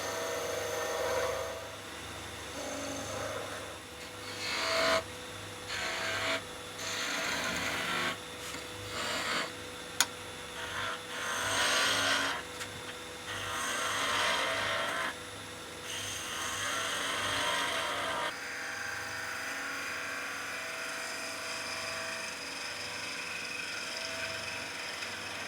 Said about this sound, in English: I'm turning the shaft down to a diameter so that it will be a loose fit